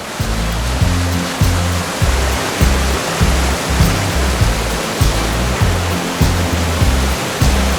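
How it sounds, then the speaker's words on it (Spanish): A waterfall on a river in the Sierra Nevada near Capileira roars in a dense, continuous rush of water, with a low repeating thump pulsing steadily underneath; no one speaks. "Nos deleitamos unos segundos observando los saltos de agua"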